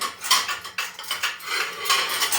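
Ceramic plates and dishes being lifted out of kitchen storage, with a close run of repeated clinks and clatters in an uneven rhythm, no talking.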